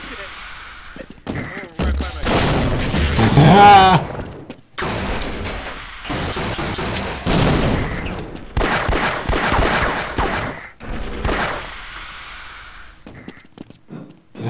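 Sniper rifle gunfire in a Half-Life deathmatch game, sharp loud reports firing in bursts amid busy game action, with people talking excitedly over the shots.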